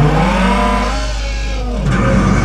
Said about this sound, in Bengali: ঢাকার রাস্তায় রেসিং কার